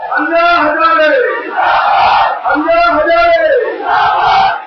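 A large crowd backing Anna Hazare chants and shouts in unison, loud and close, with rhythmic rising and falling cries repeating in waves and no separate voice over them.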